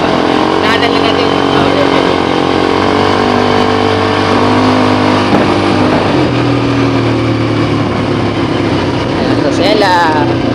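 A motorcycle engine running and revving loudly and close by throughout, with rising and falling pitch as it accelerates, while people talk over it.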